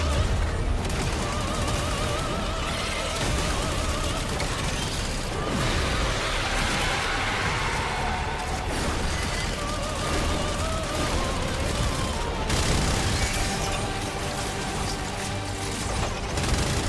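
Dense gunfire in a shooter video game. Rapid bursts of shots and booming impacts overlap into a loud, continuous barrage that runs for the whole stretch with barely a pause.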